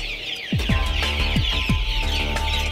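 Month-old Andijan black chicken chicks cluck and chirp close by, several distinct falling calls repeating at a lively rhythm over a constant flock chatter.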